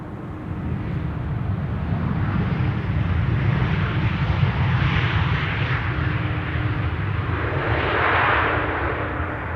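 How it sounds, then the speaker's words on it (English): KLM Boeing 737-800 arriving at Amsterdam Schiphol, a distant broad jet roar that swells and fades in soft waves, steady and unbroken with no talk. "KLM flight 1932 arriving from Geneva, 737-800."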